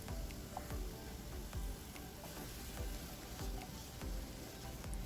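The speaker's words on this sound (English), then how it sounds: "Take a pan along with some oil, add in your mushrooms and toss it with some salt." Mushrooms frying in oil with salt in a pan, a steady quiet sizzle with soft irregular clicks and pops as the pieces are tossed.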